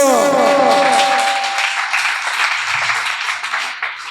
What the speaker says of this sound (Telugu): కొట్టు గట్టిగా చప్పట్లో, గట్టిగా